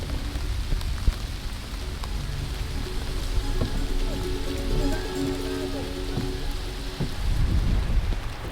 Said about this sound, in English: as the rain was pouring down